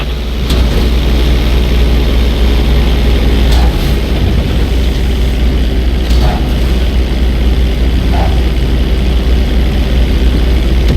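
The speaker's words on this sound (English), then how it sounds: "You're going to practice an emergency landing on that bridge straight ahead." A propeller plane in GTA 5 makes an emergency landing on a bridge roadway, with a steady loud engine drone running throughout and a few faint clicks on top.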